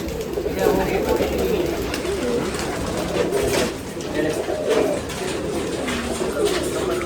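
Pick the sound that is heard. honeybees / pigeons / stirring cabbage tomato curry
pigeons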